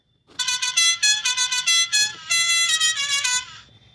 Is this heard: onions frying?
no